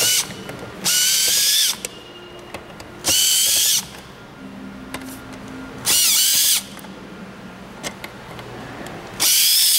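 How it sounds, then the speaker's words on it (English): Bursts from a power screwdriver driving out the screws of a power junction box cover on a massage chair panel, four loud whirring runs separated by quieter pauses with small clicks and handling. "use a Phillips head screwdriver again to remove the cover"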